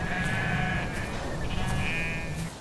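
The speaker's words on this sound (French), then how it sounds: "Les brebis bêlent." Sheep bleat in two drawn-out, wavering cries, one after the other, clear and fairly near.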